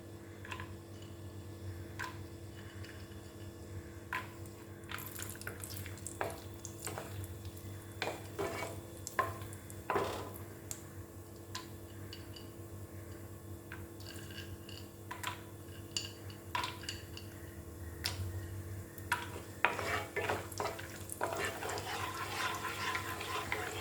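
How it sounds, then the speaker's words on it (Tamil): Almonds and cashews roasting in ghee in a pan give a low steady sizzle, with stirring scrapes and light clinks of a spoon breaking through at irregular intervals for the whole stretch, close and moderately quiet. "முதல் பாதாமும் முந்திரியும் வறுத்து எடுத்துக்கலாம்."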